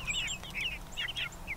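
Backyard chicken clucking and calling in short, bright, irregular bursts at moderate distance, over a faint outdoor background.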